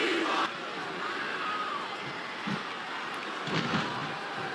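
Steady crowd roar in the WWE SmackDown vs Raw 2008 wrestling game, a continuous wash of cheering noise with a couple of brief swells, no talking.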